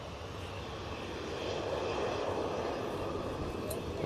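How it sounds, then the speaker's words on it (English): An Aegean Airbus A320neo airliner roars steadily as it comes in to land at Manchester Airport, with a broad engine rumble that swells slightly and is heard at a distance. "Aegean now coming in. Beautiful livery on this A320 Neo."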